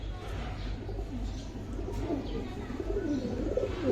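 Pigeons, including a female, coo in rising and falling phrases over a steady low hum, with faint voices in the background.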